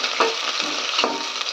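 A spoon scrapes and stirs ingredients for village-style bagara rice in a hot pan, with green chilies among them, giving a steady frying sizzle and soft stirring knocks.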